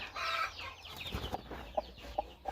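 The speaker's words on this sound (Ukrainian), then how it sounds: "Такі, бачите, маленький півник." A small rooster perched in a cherry tree on a village farmstead gives a few short, close clucking calls, with an overlapping burst of higher cackling at the start.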